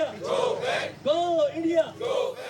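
Protesters outside a press club chant slogans against Indian rule in loud rhythmic bursts of massed voices, with a single leading voice calling out between the crowd's responses.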